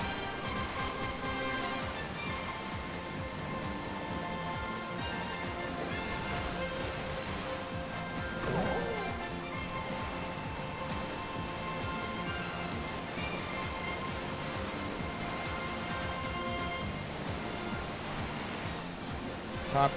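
Rushing waterfalls in the video game Bowser's Fury, a steady broadband roar of falling water with faint game music tones layered over it, continuous and moderately quiet throughout.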